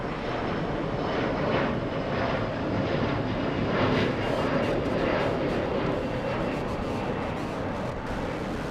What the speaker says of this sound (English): This is, Horizon Air flying to Las Vegas, Nevada.